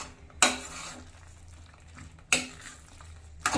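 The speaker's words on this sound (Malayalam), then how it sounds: "നന്നായി ഇളക്കണം, ആ മസാലാസ് ആ മഷ്റൂമിൽ നന്നായിട്ട് പിടിക്കണം." Mushroom masala being stirred in a pan: three sharp scraping clatters of a utensil against the pan over a low, steady background, close and fairly quiet.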